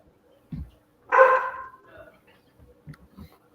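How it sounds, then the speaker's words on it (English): A house dog barks at an Amazon delivery person: one loud, close bark that trails off, with brief soft thumps and knocks around it. "He was barking at the Amazon guy."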